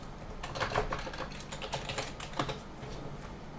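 Fingers type a name and password on a computer keyboard, a quick run of soft, close key clicks in short bursts with brief pauses, fairly quiet.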